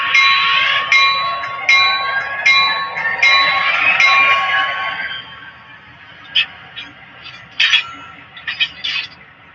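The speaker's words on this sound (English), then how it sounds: "That bell." A bell rings with bright metallic strikes, several in quick succession, ringing out clearly before trailing into fainter scattered chimes.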